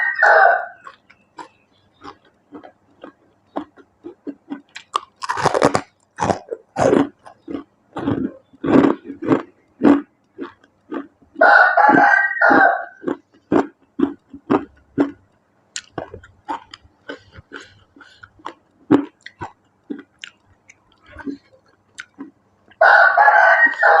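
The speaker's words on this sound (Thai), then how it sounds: "ทุกคนดี๋ยวพึ่งลำคาญเสียงไก่นะคะ" Rooster crowing and hens clucking around a rural northern Thai kitchen, with loud repeated crows in bursts and scattered clucks between them, no talk.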